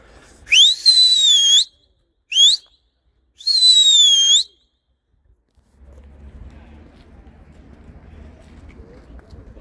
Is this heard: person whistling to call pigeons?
yes